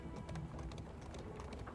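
Quiet hoof clip-clops from a horse-drawn carriage in Darkest Dungeon 2 sound in a quick, even rhythm under a low rumbling bed, faint and brief.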